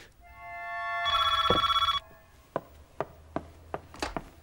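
A telephone rings with a bright trilling bell for about a second, building from a swelling tone, followed by several sharp, evenly spaced knocks or taps.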